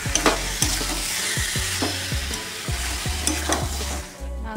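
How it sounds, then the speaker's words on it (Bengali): Chicken meat stirred and frying in a pan with potatoes for a Bengali chicken curry, giving a steady loud sizzle broken by repeated scraping strokes of a spatula, close up with no talk. "মাংস দিয়ে নেড়ে নেব ভালো করে।"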